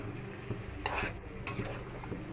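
Goat liver, boiled beforehand, being stirred and fried in a pan with lightly fried potato and salt, a steady soft sizzle broken by a few sharp utensil scrapes and clinks against the pan.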